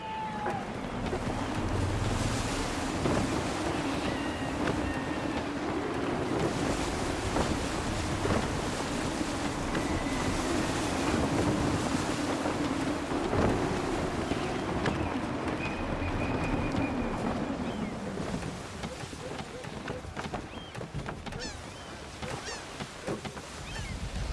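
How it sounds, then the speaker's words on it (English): Gusty wind and rolling waves surround a sailing ship in Assassin's Creed 3, a steady, loud, dense wash of sea and air roaring throughout, easing slightly near the end. "Wind looks to be shifting. Stay alert, Connor. Gusty winds can be difficult to manage"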